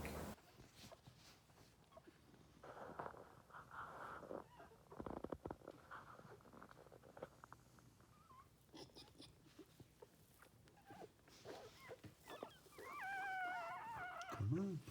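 A newborn Aussiedoodle puppy whimpers and squeaks faintly during birth, with soft rustling around it and a sharper high, wavering cry near the end.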